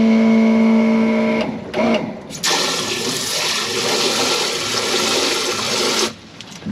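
Yacht saltwater marine toilet being flushed with fresh water: a loud rushing, gurgling flush that surges for several seconds after a tonal hum and brief clunks, then cuts off abruptly.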